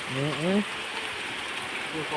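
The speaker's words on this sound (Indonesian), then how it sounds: "Hujan, guys." Steady rain falls around a hut in rural rice fields, a constant close hiss throughout, with a brief voice at the start.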